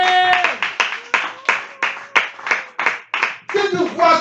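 A church congregation claps together to acclaim Jesus, with sharp, even claps about three per second, loud and close, while voices sing or call out beneath and swell near the end.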